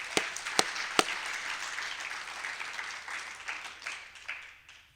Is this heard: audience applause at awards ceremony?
yes